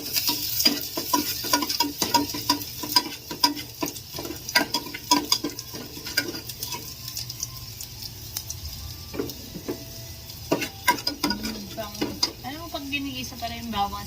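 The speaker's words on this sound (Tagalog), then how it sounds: "Ginigisa pa rin yung bawang at sibuyas" Garlic and onion sautéing in a pan for a quick miswa dish, a steady sizzle broken by frequent scraping and stirring clatters close by, with no voices.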